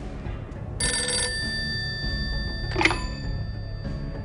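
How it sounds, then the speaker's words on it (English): A telephone in the film Dark City rings in one short, bright burst, then gives a brief second trill after a pause, over a low, steady background hum. "He gets a phone call from our narrator, Dr. Schreiber, played by Kiefer Sutherland."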